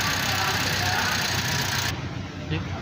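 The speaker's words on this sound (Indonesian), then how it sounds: "Ini mesin memiliki suara yang halus dan tidak ada suara abnormal" A steady car engine idles with a low, even hum and no irregular knocks, running continuously throughout.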